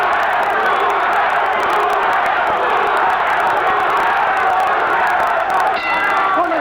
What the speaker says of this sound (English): Crowd comes alive once more with a chant. Duran, Duran.